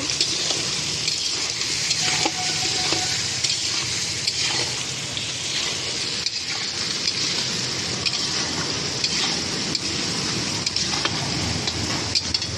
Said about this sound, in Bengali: হলুদ ও লবণ। একটুখানি নেড়ে নেব।